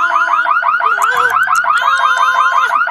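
A burglar alarm going off in The Sims 3, a rapid repeating electronic warble cycling several times a second, loud and continuous, with a few brief higher beeps layered on top and no voices.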